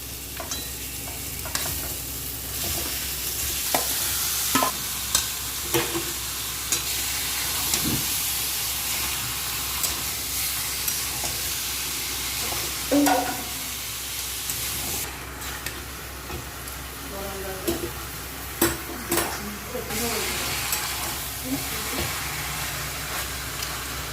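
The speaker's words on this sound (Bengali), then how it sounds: "এখন আমি মাংসটা মশলার ভিতরে দিয়ে দেবো" Desi duck meat stirred into spicy masala in hot oil on a rainy day: a constant close frying hiss with intermittent scrapes and knocks of the spoon against the pot, no voices.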